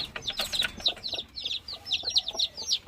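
Mother hen and her young chicks in a nursery coop on a farm, with busy high peeping from the chicks over occasional low clucks from the hen, continuous and close.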